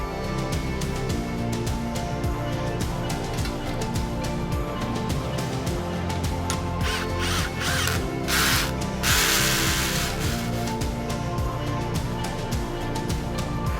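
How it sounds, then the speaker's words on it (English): Ratchet with a 1/2 inch socket tightening a nut while assembling a Caterpillar high tunnel greenhouse kit: dense, rapid clicking over a constant hum, close up and steady throughout, with no talking. "the nut goes on and we tighten it down with a 1/2 inch socket"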